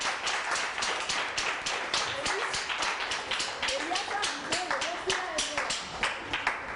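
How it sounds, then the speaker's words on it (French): Steady rhythmic clapping from a group, continuous and fairly close, with voices talking over it. "Applaudissez, non?"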